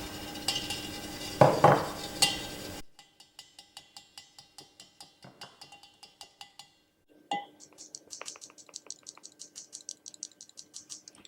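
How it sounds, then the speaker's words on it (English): A cup of oat flour sieved with the other dry ingredients for flapjacks. A loud clattering burst opens, then quick light metallic taps and rattles follow in steady close bursts, with no talking. "Sieve your cup of flour with your other dry ingredients."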